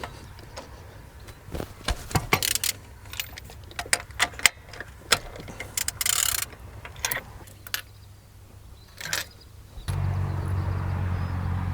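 A wrench loosens the spark plugs on a Peugeot 205 GTI, producing scattered metallic ratchet clicks and clanks in irregular bursts, with a steadier hiss near the end and no voices.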